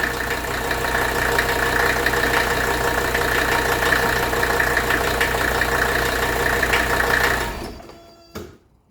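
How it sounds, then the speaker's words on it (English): A 1982 Mercedes 300SD diesel engine idles steadily with a loud, even clatter, then shuts off around the seventh second, the sound dying away to near silence with one brief late knock. "Let's watch the engine shutoff."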